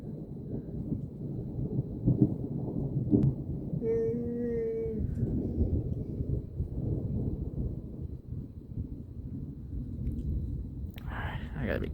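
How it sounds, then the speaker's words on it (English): Thunder during a thunderstorm in Wewoka, Oklahoma, a low rumble rolling on for several seconds under breathy, indistinct voices, with a brief tone and a sharp noise near the end. "lightning can strike 15 miles from a thunderstorm"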